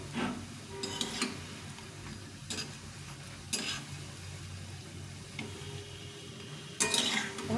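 Potato fritters (aloo fulori) fry in oil with a steady low crackle, broken by a few brief scraping clinks of a utensil in the pan; no one speaks.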